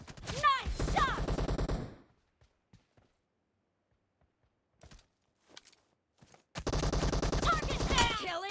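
Rapid bursts of video game gunfire in a team deathmatch play in two dense volleys, one at the start and one at the end, with sparse clicks and footfalls in the quiet gap between them.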